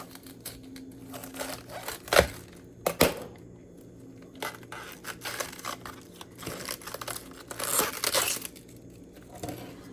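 A knife crunches through the end of a cabbage on a cutting board, with soft crinkly crackles building to two sharp snaps and further quiet crunches.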